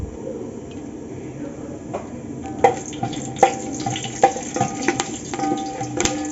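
Cardamom, cloves, cinnamon and star anise sizzle in hot oil for beef biryani, a steady close frying hiss with several sharp clicks and pops as spices land and are stirred.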